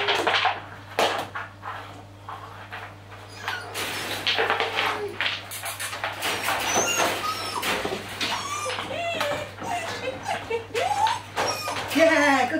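A 12-week-old female puppy whimpers and gives small high yips again and again, close by, with bits of nearby clatter and a person talking softly now and then.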